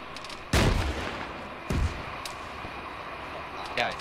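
Loud gunshots crack out in Arma 3, two big reports with rolling echoes and a fainter shot near the end, set against a background of low ambient noise.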